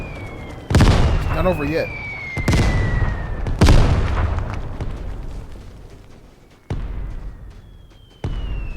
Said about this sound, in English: That's 2 different mortar strikes.